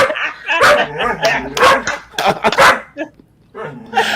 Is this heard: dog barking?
yes